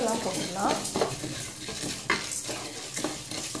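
Lentils dry-roasting in a pan for sambar powder, stirred with a utensil, giving uneven scraping and rattling strokes with a soft crackle, close and fairly loud.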